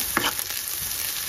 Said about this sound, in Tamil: பூண்டு சேர்த்துட்டு இதுவுமே நல்லா ஃப்ரை பண்ணி எடுத்துக்கணும்.